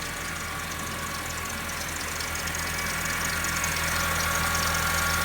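A 2010 Honda Civic engine runs steadily at idle during an engine test at an auto wrecking yard, a close, even mechanical drone with a faint high whine on top.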